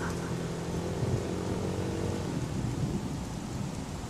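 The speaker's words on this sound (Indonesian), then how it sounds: "hujan mulai turun." Steady rain with rumbling thunder, used as a sound effect in an Indonesian radio horror story about a night trip to the beach; a continuous, fairly loud wash of rain with low thunder rolling underneath, no voices.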